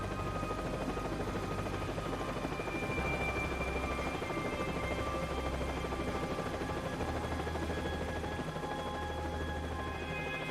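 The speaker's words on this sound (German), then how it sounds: "Hubschrauber wird wahrscheinlich uns ein bisschen nerven hier" Helicopter in the video game Max Payne 3, a steady loud rotor drone with pulsing low thump that runs continuously throughout, with no one talking.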